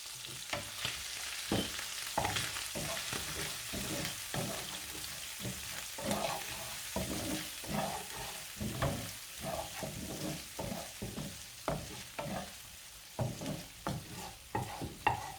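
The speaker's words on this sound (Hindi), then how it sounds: "तो इसको डाल देते हैं ऑयल में। मिक्स कर लेते हैं।" Tuna filling frying in hot oil and being mixed in a pan, with a steady sizzle broken by frequent scraping stir strokes throughout, close and fairly loud, no voices.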